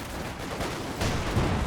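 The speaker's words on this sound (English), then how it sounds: "6-pounder doing some good damage to the Panzer IV." A 6-pounder anti-tank gun fires on a Panzer IV in a World War II strategy game: dense, rumbling battle noise with sharper, heavier blasts breaking through near the end.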